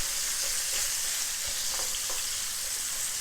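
Onions sauteing in a pan over a medium flame on the stove, giving a steady loud sizzle throughout with a few faint stirring clicks and no talking.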